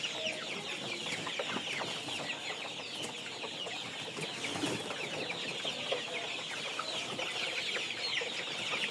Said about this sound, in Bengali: আমি মুরগিগুলোকে খাবার খাওয়াচ্ছি আরআরপি গ্রোয়ার ফিডটা, যেটা ব্রয়লার মুরগির খাবার